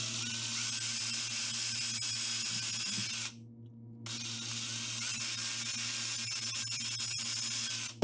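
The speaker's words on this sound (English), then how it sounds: "I've got a small bit put into my drill." A small electric drill with a small bit bores a hole in a fishing lure, whining steadily at close range, stopping briefly, then whirring on again at the same pitch.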